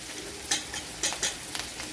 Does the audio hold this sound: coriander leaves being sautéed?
yes